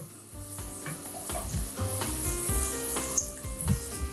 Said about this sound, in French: Et je vais les faire frire directement dans l'huile.